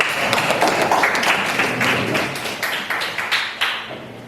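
Students in a classroom applaud a group presentation with dense, fairly loud clapping, some claps standing out as distinct taps, fading slightly toward the end.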